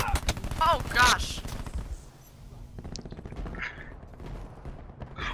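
Pistol shots from Call of Duty Black Ops 4 gameplay, a few sharp cracks early on amid loud game effects, followed by quieter in-game sounds and scattered bangs with a person talking over parts.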